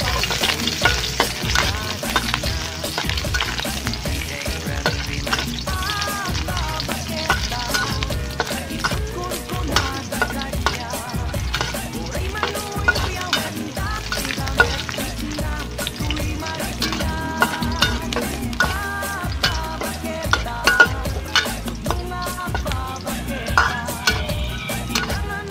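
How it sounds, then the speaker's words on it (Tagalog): Onions sautéing in a pan while cooking adobong takway, a steady sizzle with frequent stirring and light utensil scrapes, close and continuous throughout, with no talking. "Ayan, magigisa na po tayo."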